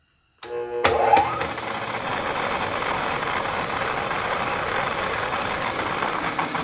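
A drill bores into a crankshaft or cylinder head part for a PM Research #3 model engine, starting abruptly with a loud whir and then holding a steady, close grinding drone.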